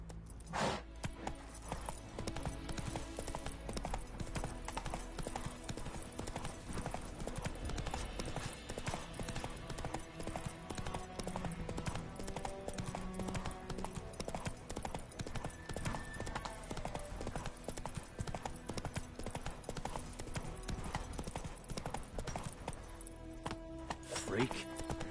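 Clip-clop of Roach's hooves trotting steadily in The Witcher 3 game, a busy continuous rhythm under a voice and game sounds, with an occasional whinny.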